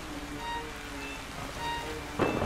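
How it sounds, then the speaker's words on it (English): Rain falls steadily in the video game Yonder, a soft continuous hiss with faint tonal music drifting underneath and a brief louder splash near the end. "and it's raining."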